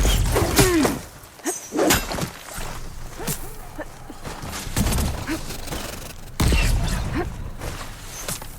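Gunfire in a Horizon Forbidden West battle sounds as a series of sharp, loud cracks and impacts, scattered irregularly among clanking and mechanical battle noise.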